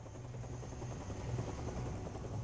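A South Vietnamese helicopter flies overhead. Its rotor throbs in a steady rhythmic chop over a low engine drone, fairly faint and unbroken, with no voices.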